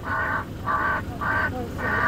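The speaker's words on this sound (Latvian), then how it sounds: "Vārna, jā." A crow gives four evenly spaced harsh caws in a steady rhythm, clear and fairly close.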